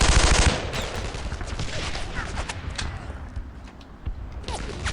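Machine gun fire in the World War II game Brothers in Arms: Earned in Blood opens with a loud burst, then scattered shots and thuds continue at lower level, with occasional voices.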